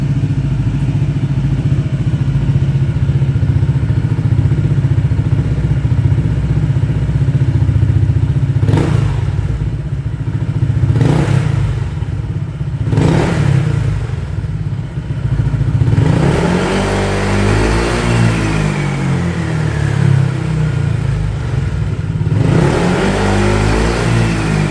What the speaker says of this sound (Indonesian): Oke, sekarang kita cek sound, dan kebetulan ini adalah yang versi silent ya.